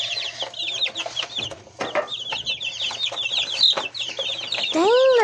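A flock of backyard chickens clucking and chattering continuously, many overlapping close calls with a steady hum beneath and a louder squawk near the end.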